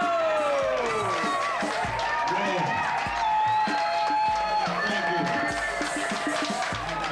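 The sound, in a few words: audience applause and cheering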